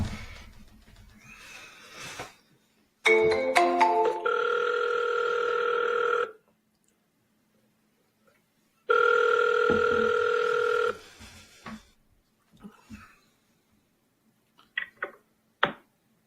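A telephone ringback tone plays while calling someone, two long electronic rings separated by silence, clear and close, with faint talk and clicks before and after.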